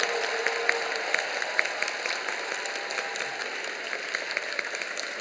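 Applause from a church congregation during an evening worship service, a steady broad wash of many hands clapping that holds evenly throughout with no voices over it.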